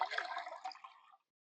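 Water poured into a metal canteen cup outdoors beside a creek, a steady splashing fill lasting just over a second before stopping abruptly, fairly close and moderately quiet.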